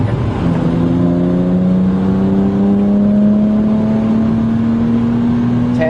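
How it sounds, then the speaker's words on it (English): BMW 135i with a standback and turboback exhaust revving high while boosting 10 psi, a loud steady exhaust note climbing smoothly in pitch over several seconds, close and continuous with no talking. "You hear this exhaust really sing when Jordan gets up in the upper RPMs"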